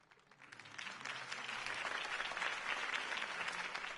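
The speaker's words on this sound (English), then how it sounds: "If only Mr. Wayne, my campaign's largest backer, could have heard that applause" A crowd applauding in the Telltale Batman game, clapping swelling up from quiet to a steady, dense roar that holds until the end.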